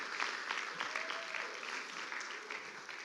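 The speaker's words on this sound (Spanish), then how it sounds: "Un aplauso para Dios." A church congregation at a Spanish-language service applauds, a fairly faint but continuous patter of many hands clapping, with a hint of voices murmuring underneath.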